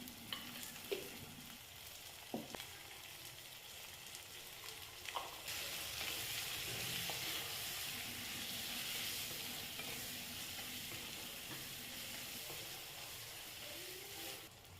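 Brinjal with turmeric and salt sizzles and fries in a hot pan, with a few stirring knocks early on, then a steady hiss that continues throughout.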